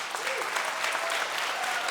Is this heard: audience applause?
yes